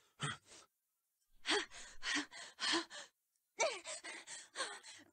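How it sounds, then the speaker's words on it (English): A character in the video game 999: Nine Hours, Nine Persons, Nine Doors pants heavily in repeated clusters of breathy gasps and sighs, with short pauses between bursts, close and clear with no talk. "A lot of panting."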